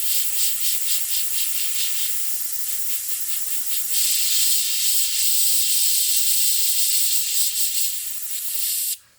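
An airbrush sprays paint at about 1 bar (15 psi), a steady close airy hiss that pulses in short bursts at first and then runs continuously until it cuts off abruptly at the end.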